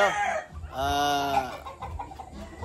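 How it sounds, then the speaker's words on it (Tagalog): Gamefowl chickens from Livestrong Game Farms, on a farm in Concepcion, Tarlac, give a loud, close drawn-out crow-like call followed by scattered softer clucks and squawks. "Ito yung mga manok na pinatid natin galing kay Livestrong Game Farms"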